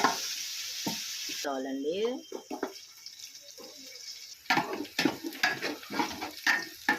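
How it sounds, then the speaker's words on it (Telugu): Sliced onions and curry leaves frying in a pan, a soft sizzle with stirring scrapes, broken by brief clatter and quiet gaps, no speech in the passage. "దోరగా వేగాలండి ఉల్లిపాయ. కరివేపాకు వేసుకొని కలుపుకోవాలండి."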